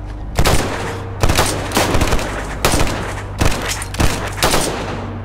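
Gunfire in the DayZ survival game: five or six loud bursts of rapid shots, each a cluster of sharp cracks separated by short pauses, close and prominent.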